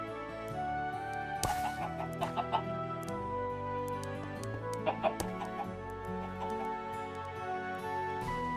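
Chickens cluck repeatedly in the video game Minecraft, a steady run of short, fairly close clucks with some louder bursts over a constant layered game background, no speech.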